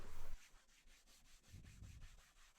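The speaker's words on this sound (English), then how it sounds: "The reason I'm using a scotch pad and not sandpaper is because I'm lazy and it takes a lot of time to sand it down" A scotch pad scuffs van paint before Upol Raptor truck bed liner goes on, making a faint, close, rhythmic rubbing scratch in quick repeated strokes.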